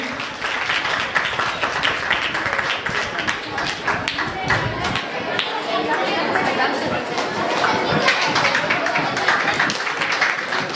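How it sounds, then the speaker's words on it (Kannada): A school ceremony audience claps loudly and steadily for the full stretch, dense applause with murmured chatter mixed in and voices talking through it. "ಜೋರಾದ ಚಪ್ಪಾಳೆಯಿಂದ ಕಾರ್ಯಕ್ರಮವನ್ನು ನೆರವೇರಿಸಿಕೊಡಬೇಕು"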